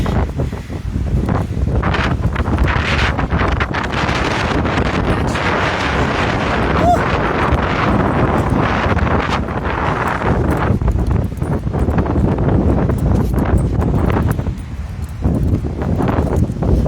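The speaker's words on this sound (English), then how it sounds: "I think our wind conditions right now are probably only about 25 miles an hour." Strong gusting wind roars steadily into an outdoor microphone ahead of a hurricane, with sustained buffeting near 25 mph that stays loud and dense throughout and barely lets up.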